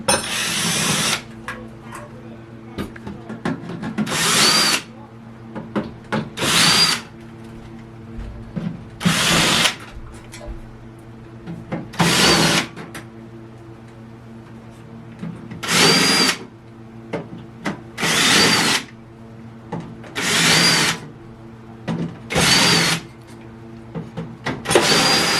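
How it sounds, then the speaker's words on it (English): A power drill whines in repeated short bursts, roughly every two to three seconds, while backing out the outer screws on a kiln, with a steady low hum underneath between pulls. "we're gonna have to take off these outer screws here to get into our guts"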